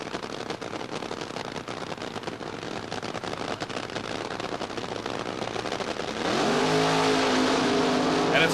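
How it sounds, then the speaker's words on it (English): A drag racing funny car built as a replica of a 1976 Chevrolet Monza runs at the 1976 NHRA Gatornationals, a loud, continuous crackling engine roar that grows fuller and harsher toward the end. "Prudhomme's car, a replica of a 76 Monza, as is Trip Shoemake's."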